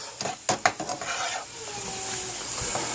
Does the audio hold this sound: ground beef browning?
yes